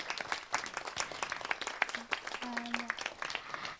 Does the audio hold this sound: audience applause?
yes